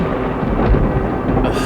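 A low, rolling rumble of thunder, loud and continuous, with a steady wash of rain beneath it.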